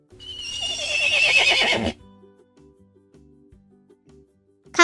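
A horse's loud, drawn-out whinny rises and falls for nearly two seconds, part of a children's animal-sounds cartoon, then gives way to soft, gentle background music.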